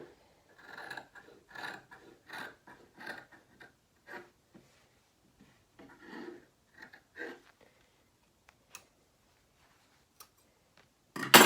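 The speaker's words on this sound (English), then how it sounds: "Now cut out exactly on the line you just drew." Scissors cutting fabric along a drawn line, a series of soft crisp snips in uneven rhythm, close and quiet, ending in a louder rustle.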